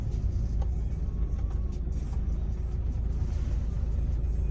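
A Ford Galaxy 2.0 diesel seven-seater rolls slowly up behind another car, with a steady low engine and road rumble heard from inside the cabin and no talk.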